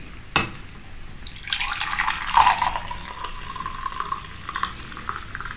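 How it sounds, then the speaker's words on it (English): Hot coffee pours steadily into a cup after a sharp clink, a close trickling stream that rises and then thins to light drips. "So now to pour it down, I have to align this hole into the exit hole and just pour it nicely."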